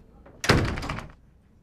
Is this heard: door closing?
yes